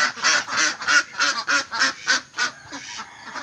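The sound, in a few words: ducks quacking as they are released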